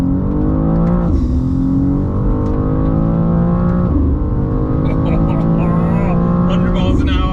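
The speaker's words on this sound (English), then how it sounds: "Left foot hard down the brake, right foot on the accelerator, and here we go." A BMW M2 G87 launches hard on a quarter-mile run, its engine roaring loud and close with rising revs and several gear-change dips across the pull, heard steadily from inside the car.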